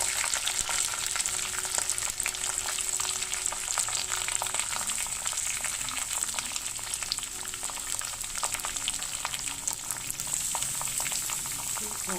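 Onion frying in a pan with garlic and curry leaves for Khandeshi eggplant bharit, a loud, dense, continuous sizzle with faint stirring scrapes mixed in, heard up close.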